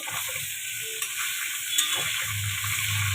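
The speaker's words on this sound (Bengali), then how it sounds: "আলুটার আগে পটলটা একটু ভেজে নিয়ে" Pointed gourd (potol) fries in hot oil before potatoes go in, with a constant hiss and sizzle and a few soft stirring clinks. No one speaks.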